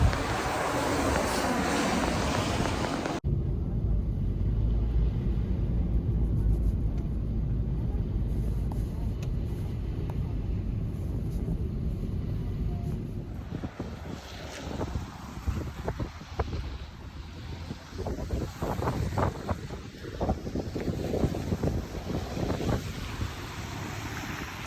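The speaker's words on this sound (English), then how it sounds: "Mahangin, kaya sobrang lamig." Cold wind gusting at a snowy bus stop in minus 12 degree weather, a steady roaring rumble buffeting the microphone with uneven bursts throughout.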